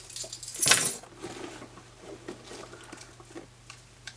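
Keys jingle loudly in one short burst as they come out of a purse, followed by faint rustling and small clinks close by.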